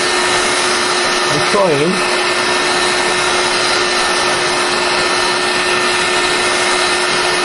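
A heat gun blows hot air onto the corners of a Halo armour boot, a loud, steady whirring roar with a constant tone, while a voice briefly speaks over it.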